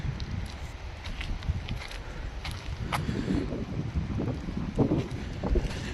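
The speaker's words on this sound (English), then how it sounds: "It's quite windy, so if you hear that," Wind buffets a OnePlus 11 phone microphone in a steady low rumble, with gusts swelling and fading and faint rustling underneath.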